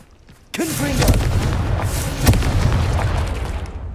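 A Confringo fire spell explodes in Hogwarts Legacy: a sudden loud boom followed by a rumbling, crackling tail and a second smaller burst, with a voice briefly heard.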